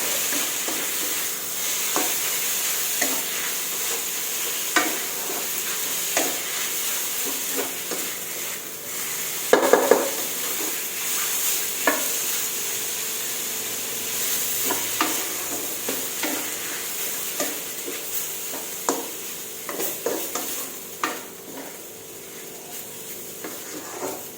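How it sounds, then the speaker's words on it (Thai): Pork stir-fried in oil in a pan, a soft steady sizzle broken by repeated scraping and clicking strokes of a utensil against the pan, with one louder clatter midway. "ลวนไปเรื่อยๆค่ะเพื่อให้หมูเราน้ำมันเข้าออกค่ะ"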